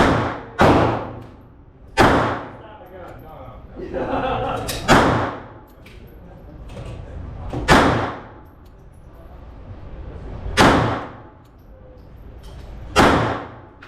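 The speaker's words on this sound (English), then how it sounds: "I need to shoot that round off" Sharp, loud gunshots from a Beretta 3032 Tomcat .32 ACP pistol at close range, about half a dozen spaced irregularly across the stretch, each with a brief ringing decay, with background noise between reports.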